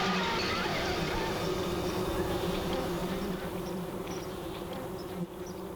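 Africanized killer bees, a cross of aggressive African bees with docile honeybees, make a dense, continuous buzz of a swarm that stays steady and fairly loud throughout with no talk.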